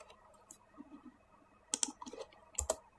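Sparse, close-up clicks of someone typing code on a computer keyboard: a few scattered key taps followed by two short bursts of quick strokes, fairly quiet and heard alone with no talking.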